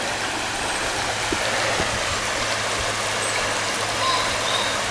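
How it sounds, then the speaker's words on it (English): A clean river flows steadily nearby, its broad, constant rush filling the scene with no pauses or voices. "There's the river, nice and clean too."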